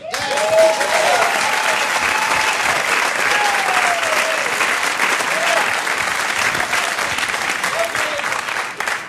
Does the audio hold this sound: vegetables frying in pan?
no